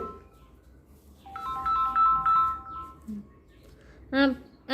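A phone ringtone plays a bright, stepped electronic melody, followed by a short burst of sharp tones, with faint background noise throughout.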